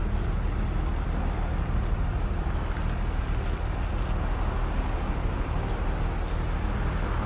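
Small tour bus carrying about a dozen passengers on the road to Milford Sound near Te Anau, New Zealand, its engine and road rumble a steady, close, continuous low drone with no talking.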